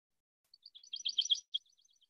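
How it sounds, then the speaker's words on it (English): A short, high pine warbler trill, a rapid run of thin notes lasting about a second, clear against silence. "A nice little trill. Pine warblers that are now returning back up here."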